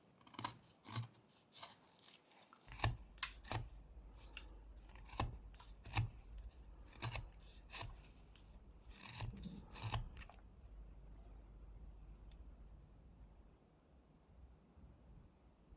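A knife whittling a wooden chess bishop with sweeping push cuts, making a series of sharp scraping cuts in quick succession that give way to a quieter continuous rasp, close up.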